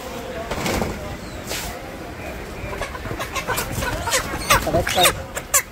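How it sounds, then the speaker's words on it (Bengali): Chickens clucking and fluttering at a village market stall, heard in short close bursts that grow busier toward the end, with people talking over them. "এটা কি মুরগ না মুরগি? মুরগ না মুরগি? মুরগ আছে, মুরগি আছে।"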